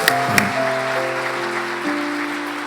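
A church congregation at a Sunday evening service claps in encouragement for the youth group, a steady wash of applause with a sustained keyboard tone beneath it.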